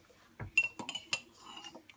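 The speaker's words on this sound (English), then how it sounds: "It has to drown in the cup, so I need to push it down with something. Maybe a spoon." A metal spoon clinks against a cup while pushing a Nespresso coffee pod down into water, a few quiet close ringing taps and scrapes over about two seconds.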